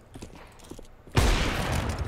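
A sudden loud burst of gunfire from Counter-Strike 2 erupts after a quiet stretch and rings on as a dense, sustained blast through the end.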